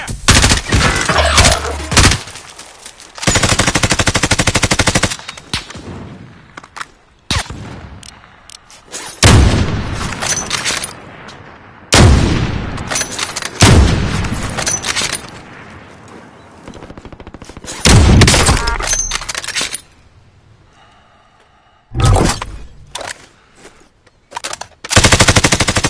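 Bursts of automatic gunfire from the Call of Duty Warzone game, loud and close, come in sustained rapid volleys and short sharp runs separated by brief lulls, with the odd heavy boom.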